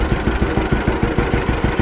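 John Deere A tractor engine running close by, a loud, steady, chugging beat of evenly spaced low thumps, about seven per second, with no talking.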